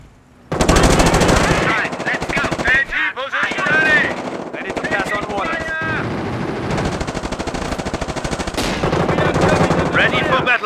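Rapid machine gun bursts ring out in a Company of Heroes Blitzkrieg mod battle, loud and sustained for most of the stretch, mixed with other gunfire, battlefield noise and unit voice lines.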